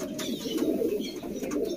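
Many pigeons in a loft keep up a thick, rolling coo close by, with a few brief flutters and rustles breaking through.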